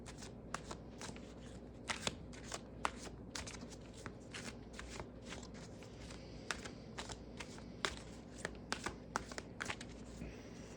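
Tarot cards being shuffled by hand in a quiet setting, a steady run of soft riffling and slapping taps that repeat through the whole stretch, close and gentle, with no talk over them.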